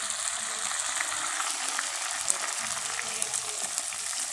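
Onions browned dark and freshly added tomatoes sizzle in a pan for chicken tikka masala gravy, a close, steady crackling fry with small pops and no voices.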